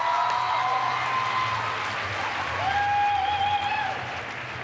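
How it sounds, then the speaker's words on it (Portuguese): Arena crowd applauding a US figure skater after his free skate at the 2018 Grand Prix Final, a steady dense wash of clapping and cheering throughout, with a faint tonal whistle-like sound over it. "Muito aplaudido,"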